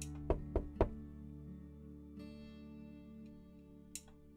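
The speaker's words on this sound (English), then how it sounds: "I knock on the door." Three quick knocks rap on a closed bedroom door, sharp and close, followed by a quiet stretch and one fainter tap near the end.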